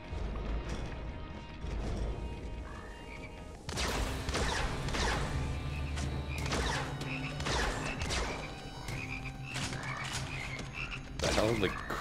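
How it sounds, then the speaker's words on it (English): Frogs croak steadily in the video game Immortal Redneck, a dense, continuous chorus of rasping calls layered with game ambience, clanks and sharp impacts throughout. "I know, those are frogs."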